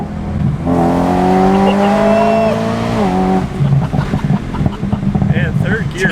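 A supercharged BMW M3 engine pulls hard through third gear, its whine rising loud and steady for a few seconds before it eases off, with brief voices at the end.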